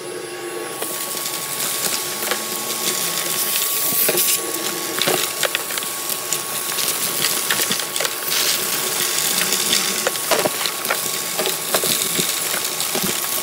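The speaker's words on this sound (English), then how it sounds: "We'll turn the Hoover on. I'm gonna Hoover this up" A loud Hoover vacuum cleaner runs steadily throughout, its roar mixed with rattling and crackling as workshop debris gets sucked up.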